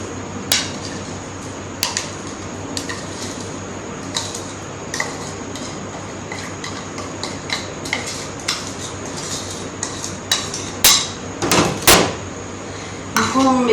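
A spoon clinks and scrapes against a vessel while spiced oil is mixed through lasoda (gunda) fruit for pickle. The metallic taps are frequent and irregular, and they get busier and louder toward the end.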